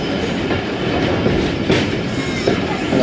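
Ravi Express train arriving at the Qila Sheikhupura Junction platform, a loud, continuous close rumble of rolling wheels with rail clatter and faint squeals, no talking.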